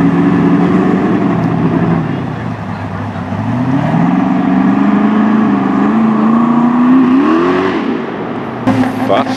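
A Chevrolet Nova drag racing for money, a loud close engine roar that dips and then climbs in pitch as the car pulls away, with people talking over it.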